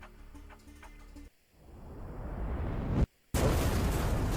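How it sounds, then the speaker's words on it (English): Bombardment cannon fire in the Battle Nations war game: a rising, rumbling blast builds and breaks off suddenly, then a loud, sharp explosion bursts in after a brief silence, following a quieter passage of game music. "Those bombardment cannons are pounding us."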